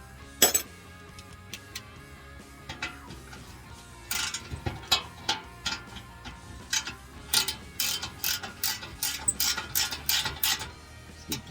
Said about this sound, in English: Remove these bolts here.